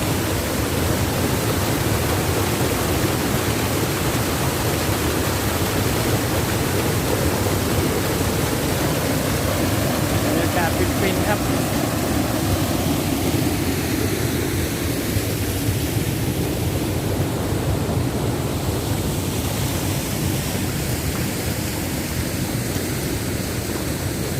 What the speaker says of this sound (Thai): เป็นน้ำตกเล็ก